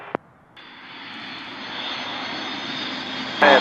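A jet aircraft roars steadily as it comes in to land on runway 11 in overcast weather, its loud engine noise building and holding after a brief click, with a sharp rise in whine at the very end.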